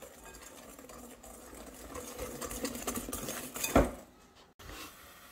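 Spoon scraping and clinking in a pan while a brioche cream mixture is stirred, steady soft metallic scrapes building to a louder clatter near the end, with a brief pause.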